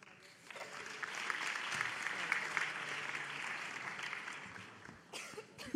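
Audience at a medical conference plenary debate applauds in a broad, steady wash of clapping that swells after the first half-second, holds at moderate level, and tapers near the end, with a cough or two.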